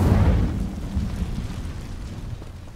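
A burst of fire erupts as the Incendio spell ignites dry vines in Hogwarts Legacy, a loud whooshing flare up front that settles into a low rumbling crackle.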